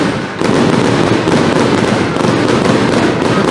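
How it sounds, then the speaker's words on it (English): Fireworks burst over a speedway Knockout Cup final, Poole Pirates against Redcar, in a loud, dense, continuous crackling barrage of rapid pops and bangs. "The fireworks are up."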